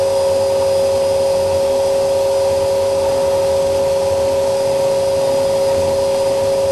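A Hoover vacuum cleaner runs at full power, a loud, steady whining drone with a sharp tonal whistle that stays constant and close with no breaks.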